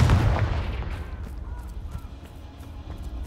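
Confringo fire spell in the Hogwarts Legacy video game bursts at once into a loud booming explosion, then trails off into a rumbling decay that fades over a few seconds.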